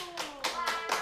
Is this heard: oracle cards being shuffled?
no